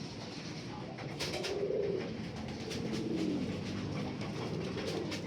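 Racing pigeons in a clean loft coo in soft, low, repeated rolling calls, close and moderately loud, against a steady background hum with scattered faint rustles and no talk.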